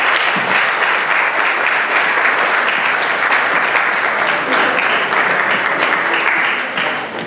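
A conference audience applauds steadily, a dense, loud burst of clapping that holds evenly throughout and tapers slightly at the very end.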